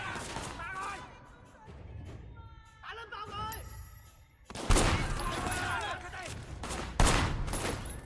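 Gunfire in the open-world action game Sleeping Dogs: bursts of shots and impacts ring out amid game music and effects, growing louder and denser in the second half, with sharp peaks near five and seven seconds.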